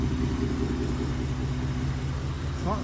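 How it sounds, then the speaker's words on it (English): A 5-liter V8 engine in a 2020 Shelby GT500 idles steadily with a deep, even rumble, moderately loud and close, without any revving. "that 5-liter V8 sounds really good. Just right there, idling."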